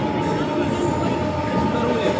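A passenger train rumbles along steadily close by, its wheels and carriages giving a continuous roar with a faint high squeal on top.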